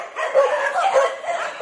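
Dogs at a rescue shelter in the Philippines bark and yip over one another in an excited, overlapping chorus, loud and close, with a few whimpers mixed in.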